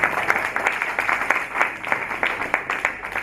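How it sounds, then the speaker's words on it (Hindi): Audience members at a Hindi stage play applaud the actors, a steady, fairly close patter of many hands clapping in a rhythmic wave throughout, with no one speaking. "जोरदार तालियों से हमारे कलाकारों का हौसला अफजाई करें।"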